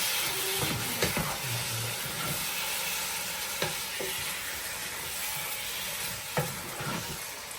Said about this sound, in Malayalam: നന്നായിട്ട് മസാലയൊക്കെ ഒന്ന് ചിക്കനിലേക്ക് ഇളക്കി മിക്സ് ചെയ്ത് കൊടുക്കണം